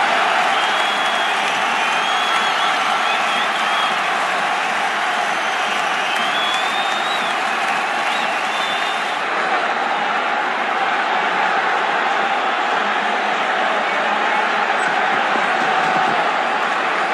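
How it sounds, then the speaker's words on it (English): A large cricket stadium crowd at a Pakistan vs Bangladesh match roars and cheers steadily after a six, a dense continuous wall of noise that holds at full loudness throughout. "Crowd's gone mad."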